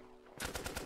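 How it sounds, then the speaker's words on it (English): Short automatic burst of gunshots in Roblox Trident Survival, four or five quick sharp shots in rapid rhythm, loud and close. "I shot him again"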